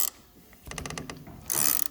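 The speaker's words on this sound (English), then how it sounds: "we're going to use our 10 mil and tighten this side" Ratchet wrench with a 10 mm socket tightening a bolt on an 850 Khaos 165 snowmobile, a quick run of close, crisp clicking pawl ratchets followed by a louder burst of clicks, with no talk.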